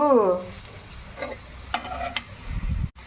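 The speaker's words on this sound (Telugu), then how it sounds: "చిక్కుడుకాయ ఫ్రై అయితే ఇలా వేగించుకున్న తర్వాత చూడండి ఎంత బాగా వేగిందో" Broad beans fry and are stirred in a pan, soft sizzling under scraping stir strokes and a few clinks of a utensil, close and moderately loud, with no talking.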